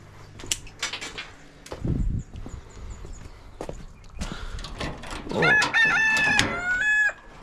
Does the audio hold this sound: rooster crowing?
yes